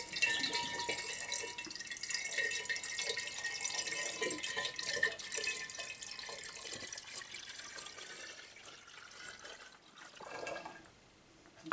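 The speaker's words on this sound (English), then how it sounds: "So this is 2 litres of water. And what I'm going to do is I'm just going to pour it in, all 2 litres, or as much as I can get in." Two litres of water poured into a rosé wine kit fermenter, a steady gushing and splashing pour that tapers off near the end, heard alone up close.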